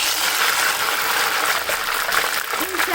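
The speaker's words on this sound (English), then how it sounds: "I'll pour the yam inside the oil." Yam pieces poured into hot frying oil, a loud close sizzling hiss that stays dense and bubbling throughout, with a voice talking over it.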